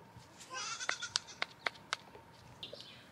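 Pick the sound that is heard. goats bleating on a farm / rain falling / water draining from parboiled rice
goats bleating on a farm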